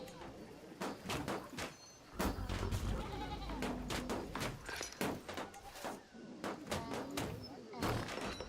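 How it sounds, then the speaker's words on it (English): Bleating livestock calls from a Crusader Kings III game scene, repeated in short bursts over a busy background with a voice talking through much of it. "Yeah, there's definite donkey noises."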